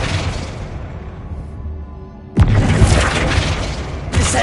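A Flipendo spell lands in Hogwarts Legacy with a sudden loud magical impact, a sharp booming hit followed by a sustained crackling burst and a second strike near the end, with no talk.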